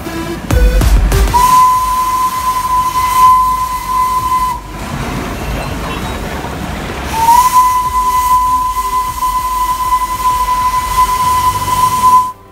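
A Darjeeling Himalayan Railway steam train gives two long, loud whistle blasts separated by a hissing pause, with steam hiss and rail noise running underneath.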